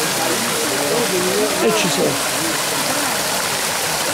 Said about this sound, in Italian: Bello, guarda che acqua ci sta